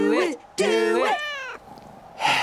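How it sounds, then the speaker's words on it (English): A cartoon cat meows several times in quick succession, close and clear, with drawn-out wavering cries followed by a brief breathy sound. "Hey, two cats, Steven"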